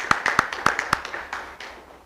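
A few people clap at a December school board meeting, a short burst of sharp, close claps that slows and thins out after about a second.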